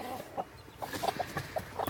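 Baby chicks peep inside a chicken coop, giving scattered short, high chirps at an irregular pace over a soft background hum. The peeps are close but fairly quiet, and no one talks.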